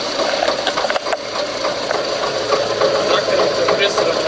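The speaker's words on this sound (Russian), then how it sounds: "Сейчас трактором-компрессором" A tractor engine drives an air compressor, running as a steady, loud mid-pitched drone with a rattling, knocking texture throughout, close to the listener.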